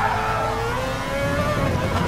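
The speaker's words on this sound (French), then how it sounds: "la palme du plus beau bruit revient très nettement à la Mazda" In a racing video game, a Mazda race car at Spa-Francorchamps roars steadily at high revs, its engine note climbing gradually as it pulls through the circuit, loud and continuous with no speech over it.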